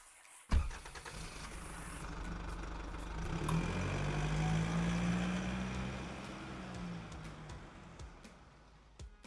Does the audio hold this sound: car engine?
yes